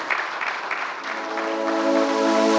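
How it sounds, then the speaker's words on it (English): Steady, full applause from a conference audience fills the hall, holding a dense, even roar of clapping throughout with no talking over it. "let's give a loud round of applause for Mr. Sonam Wangchuk"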